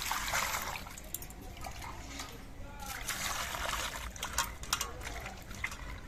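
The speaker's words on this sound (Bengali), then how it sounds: "এবার এগুলো সব ধুয়ে পরিষ্কার করে নিচ্ছি।" Cut potatoes and bitter gourd being washed in water make soft, close sloshing and trickling with occasional splashes, under a quiet background and no talk.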